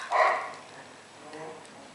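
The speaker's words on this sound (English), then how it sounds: "Sorry for the dogs in the background." Dogs bark faintly in the background of a quiet indoor room, one muffled bark near the start followed by softer, distant yips.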